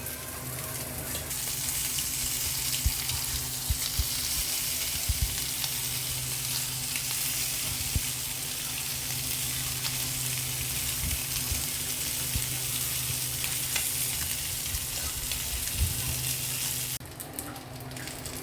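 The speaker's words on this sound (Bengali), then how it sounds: "আমার একটা ব্যাচ কাবাব ভাজা হয়ে গেল।" Chicken kababs fry in hot oil, a loud, continuous close sizzle with occasional soft stirring knocks, steady throughout with no voices, ending with a brief shift in the hiss near the end.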